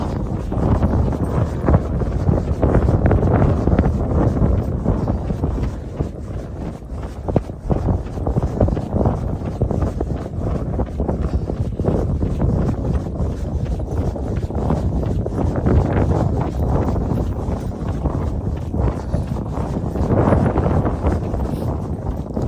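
Strong wind buffets the microphone on a desert trail run, a loud continuous roaring rush with gusting swells and rhythmic footfall thumps underneath, no talking.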